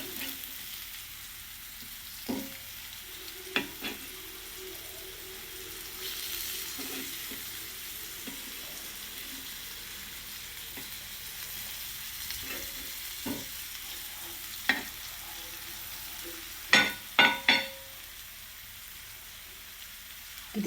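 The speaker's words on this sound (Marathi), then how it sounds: "तर आता दोन्ही बाजूनी फ्राय झालेलं आहे बघा." Semolina-coated potato slices fry in a pan with a soft, continuous sizzle, broken by scattered spatula taps and scrapes, including a quick cluster of knocks near the end, close up with no talking.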